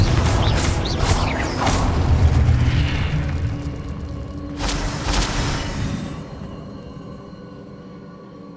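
Confringo explosion spell cast in the video game Hogwarts Legacy: a dense fiery burst and rumbling blast with crackling mechanical texture, loud and close, followed by a second sharp flare before fading into quieter game ambience.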